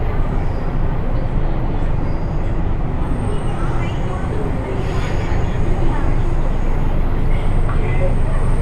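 Metro train at Yamuna Bank metro station, a steady loud low rumble throughout with faint high whine and squeal, close by, with background voices present.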